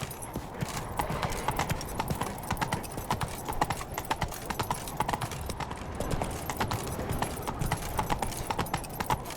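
Horse hooves clip-clop at a steady trot in the video game The Witcher 3, a continuous rhythmic pattern of fairly close hoofbeats.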